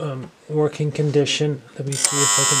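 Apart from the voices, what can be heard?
alarm of Copal Model 229 flip alarm clock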